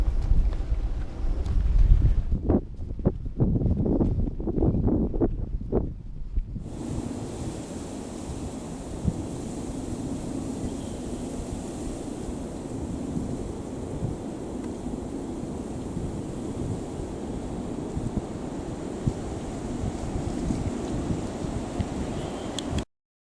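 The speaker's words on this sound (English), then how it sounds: "A little bit windy" Wind on a hiking trail at Indiana Dunes near the lake, starting with heavy gusting buffets against the microphone, then settling into a steady broad rush of blowing air with no talk.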